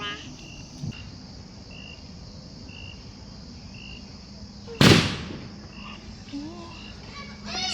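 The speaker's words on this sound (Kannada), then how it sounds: "ಇನ್ನೊಂದು ಸ್ವಲ್ಪ ಪಟಾಕಿ ಇತ್ತು ಅಂತ ಹೊಡೆಯೋಕೆ ಆಚೆ ಬಂದ" Firecrackers burst outside at night during a festival: one sharp loud crack stands out midway over a constant chorus of crickets and insects, with faint distant pops around it.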